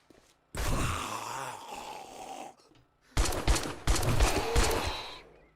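Gunfire in 7 Days to Die, a wasteland survival game: loud, rough bursts of shooting in two separated stretches, the later one choppy with several sharp hits, against near silence between them.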